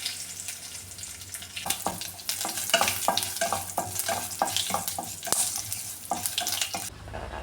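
Mustard seeds, two dried red chilies and curry leaves sizzle and crackle in hot coconut oil for a Kerala pazham pulissery, a dense run of sharp pops over a steady frying hiss, loud and close throughout.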